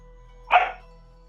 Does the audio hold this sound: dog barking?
yes